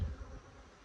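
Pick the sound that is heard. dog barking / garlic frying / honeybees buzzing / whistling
honeybees buzzing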